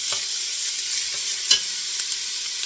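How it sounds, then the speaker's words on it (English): Food sautéing until brown in a pan for tomato basil soup, a continuous close sizzle with a few sharp spoon scrapes and taps against the pan, no voices. "And just saute till they're brown."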